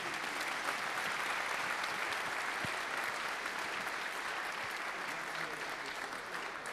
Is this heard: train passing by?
no